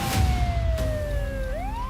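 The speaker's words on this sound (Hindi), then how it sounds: "ये किस तबाही का सायरन बज रहा है?" A wailing siren slowly falls in pitch, then sweeps back up, loud over low rumbling traffic noise.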